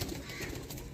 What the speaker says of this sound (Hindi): ये नॉर्मल साइज़ के कबूतर हैं